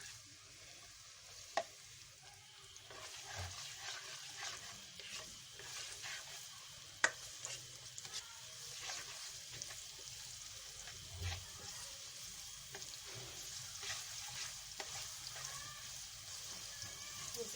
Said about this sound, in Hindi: ये मैंने एक कढ़ाई में ऑयल डाला हैगा और इसमें प्याज डाल दिया मैंने।